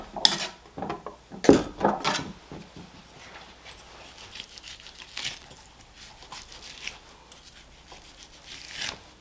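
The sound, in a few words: knife peeling bone skin off a whole top sirloin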